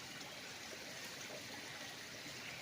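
Steady, faint rush of a small stream on a farm lot in Nagcarlan, Laguna, a continuous hiss of running water with no breaks and no voices.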